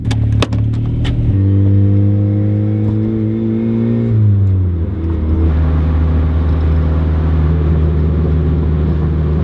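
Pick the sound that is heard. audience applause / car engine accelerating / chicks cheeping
car engine accelerating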